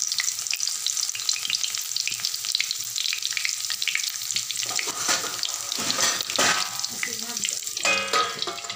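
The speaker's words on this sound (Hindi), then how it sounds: "हमारा तेल गरम हो चुका है, इसमें लहसुन डालेंगे और तेज पत्ता डाल देंगे।" Garlic and bay leaves hit hot oil, giving a steady close sizzle of frying with a bright crackling hiss that grows busier and louder partway through, along with clinks and scraping from stirring in the pan.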